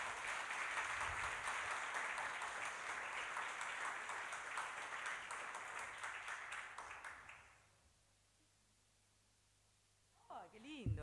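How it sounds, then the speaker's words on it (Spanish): An audience claps loudly and steadily, the applause fading out to near silence before a voice begins. "Un fuerte aplauso para todos ellos que trabajan acá."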